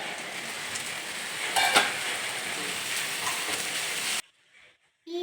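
Beetroot stir-fry sizzles and fries in a pan while being stirred, a continuous close crackle with a short louder burst of scraping. The sound then cuts out abruptly near the end.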